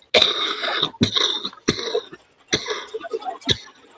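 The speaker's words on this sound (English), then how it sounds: "This is the first time I coughed." A person coughs repeatedly at close range in a bout of about five harsh, wet coughs with brief gaps between them. Throat-clearing sounds mix in, and no words are spoken.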